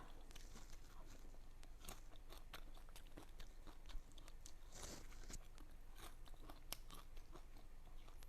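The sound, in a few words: chewing crispy deep-fried grasshoppers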